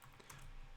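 A brief burst of typing on a computer keyboard, quick soft key clicks heard up close during a coding session.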